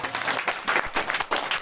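An audience claps for two students being honoured at a prize distribution at Jharkhand Public Residential School, Karudih, producing a brief, dense burst of applause with a steady, fairly loud wash of many hands.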